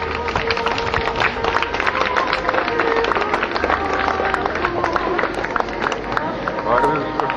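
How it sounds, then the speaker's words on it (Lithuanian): A stadium crowd at the Ariogala 2013 gathering claps in sustained, scattered applause while an announcer speaks over the public address. "Taigi, jūsų plojimai vilniečiams."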